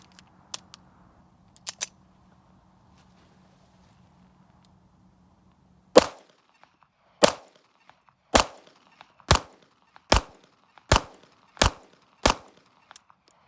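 A Beretta 30X pistol fired in a steady series of eight sharp, loud shots spaced about a second apart, preceded by a low hum and a few faint clicks.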